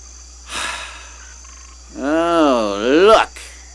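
A performer's voice imitates a frog for a Frog Prince puppet show, a short breathy burst followed by a long, warbling, drawn-out croak sung close and loud.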